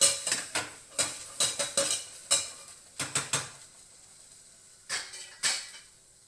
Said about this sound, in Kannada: ಇದಿಷ್ಟನ್ನು ಹಾಕ್ಬಿಟ್ಟು ಈ ಥರ ಫ್ರೈ ಆಡಿಸ್ಬೇಕು. ಮೇಲೆ ಕೆಳಗೆ ಮಾಡ್ಕೋಬೇಕು.